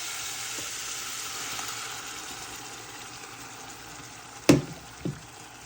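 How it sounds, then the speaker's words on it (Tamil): Chicken pieces frying in a pan for pepper butter chicken, a soft steady sizzle at low level, then two sharp clanks of a utensil near the end, no voices. "நல்லா சிக்கன் பொரிஞ்சு வந்துட்டு அரைவாசிக்கு இந்த அளவுக்கு பொரிஞ்சா காணும்."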